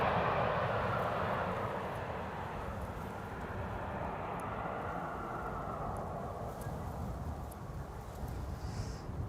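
An Airbus A330 airliner passes over Amsterdam Schiphol Airport with a broad, steady jet roar, loudest at first and slowly easing but still present throughout.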